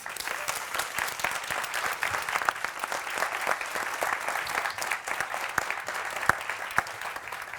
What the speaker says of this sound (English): So round of applause again because